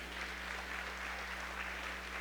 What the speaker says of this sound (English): let's give the committee, the Youth and Ag Committee, a big round of applause